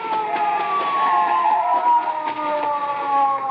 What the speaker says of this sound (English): Wait, listen. A police car.